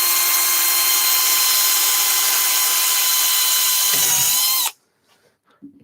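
A power drill fitted with a lip and spur bit whines steadily and loudly as it bores through an acrylic sheet for about four and a half seconds, the tone shifting slightly near the end before cutting off abruptly.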